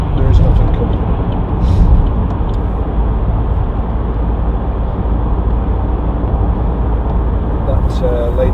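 A 2014 Vauxhall Astra 2.0 CDTi ecoFLEX cruises along a UK motorway, its steady, loud interior road and engine drone running unbroken throughout with no talk.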